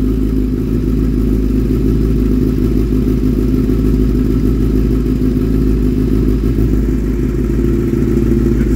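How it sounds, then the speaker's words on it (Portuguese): A car engine with a sport air filter, sport exhaust and iridium spark plugs runs on a dynamometer. The drone is loud, steady and close, with a rough, clattering pulse and no talking. "Às vezes no dinamômetro o som fica agressivo demais"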